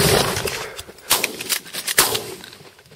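Shotgun blasts while hunting Canada geese in early season, several sharp reports in quick succession at moderate distance, over open outdoor ambience with wind.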